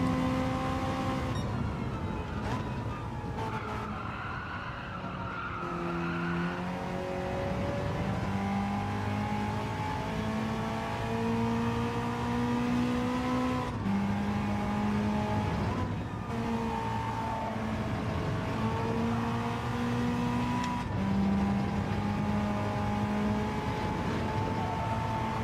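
A race car engine in a racing video game revs hard and steadily, its loud whine climbing through the gears with brief dips at each shift, going on without a break.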